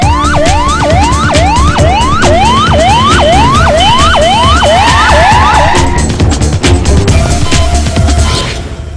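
A 108 emergency ambulance siren wails loud and close in repeated rising sweeps, shifting to a different pattern partway through before fading out at the end.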